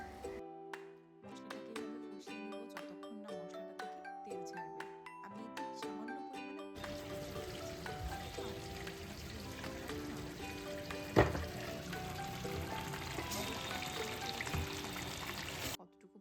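Fried shrimp, fish and pointed gourd tipped into a pan of sizzling masala: a loud, broad sizzle erupts after a stretch of background music and holds steady, with one sharp clatter midway.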